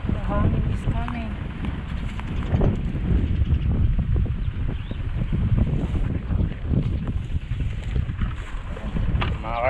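Strong wind buffets the microphone aboard a boat at sea on a fishing trip, a steady, heavy rumbling roar that fills the whole clip, with faint knocks and water movement underneath.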